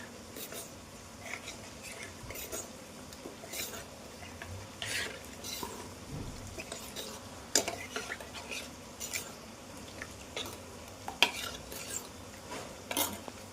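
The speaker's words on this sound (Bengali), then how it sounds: "যেই আমার পেঁয়াজটা হয়ে যাবে ভালো মতন ভাজা ভাজা" Onions fry in a pan for a simple chicken dish while a utensil stirs them, giving repeated scraping strokes over a soft, steady sizzle with clinks of metal on the pan.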